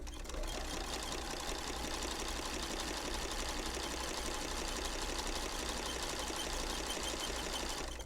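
A sewing machine with a walking foot stitching a zipper bag, a steady fast mechanical whir and rapid needle chatter running unbroken and fairly loud, with no talking.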